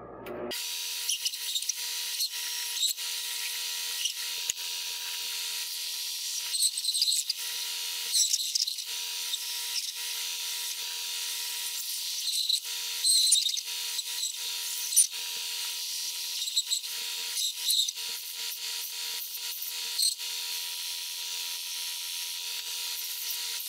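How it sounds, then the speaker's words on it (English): A power sander works on wood pieces for a custom drill storage rack, a steady high-pitched whir running throughout the clip with brief louder bursts as the tool bears on the wood. "I'm going to take them on the sander"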